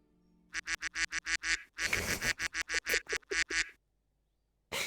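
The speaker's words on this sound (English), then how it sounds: "I do like the quack." Cartoonish duck quacks from the video game Fatamoru, a rapid run of about a dozen short, bright, evenly spaced quacks, loud and close, then a pause before one more begins.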